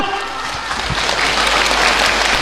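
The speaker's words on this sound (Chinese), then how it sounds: "我们用最最热烈的掌声，请出4位艺术家上场" Loud, dense applause from a theatre audience welcoming four Yue opera artists onto the stage, sustained and even throughout.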